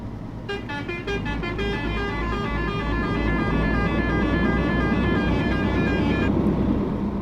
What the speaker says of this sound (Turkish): kornayı merak edenler için kornayı veriyorum size